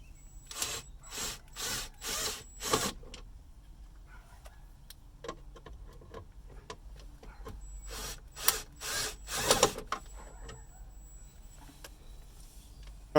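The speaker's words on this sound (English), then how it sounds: "you got 2 Phillips screws you're going to have to remove right from this location" Phillips screws being backed out of a Dodge Magnum shifter with a power driver: two clusters of short whirring bursts several seconds apart, quiet and close, with faint rubbing and clicks between.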